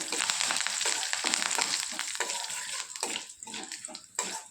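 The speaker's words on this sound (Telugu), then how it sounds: "ఒక ఎండుమిర్చి, కొద్దిగా కరివేపాకు కూడా వేసి వేయించుకుందాము." Red lentils, a dried red chilli and curry leaves frying in hot oil, a loud steady sizzle with bursts of crackle and spatter that ease and flare again.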